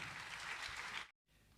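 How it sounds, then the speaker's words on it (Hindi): Audience applause at a Bible college convocation, a soft, distant wash of clapping that cuts to a brief silence near the end before faint room noise resumes. "ज़ोरदार तालियों में।"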